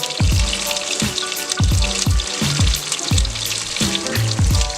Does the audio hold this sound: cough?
no